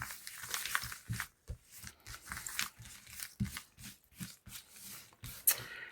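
Tarot cards shuffled and handled close by, with soft riffling, flicking and papery rustles in uneven bursts and short pauses between them.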